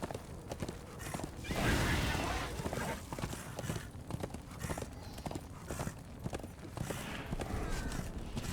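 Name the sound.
horse hooves clip-clopping in the video game Darksiders II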